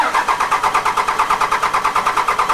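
A 2002 Dodge Cummins diesel pickup turning over on its starter, a loud, close, even chugging rhythm of quick repeated compression pulses that never catches and fires.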